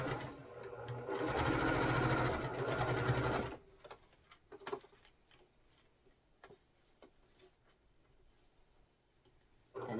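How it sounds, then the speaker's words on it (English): A sewing machine stitches rows of a cotton quilt, running in a fast steady whir for about three seconds, then stops, leaving faint ticks and small handling clicks nearby. "I'm going to start sewing my row 2 all the way down."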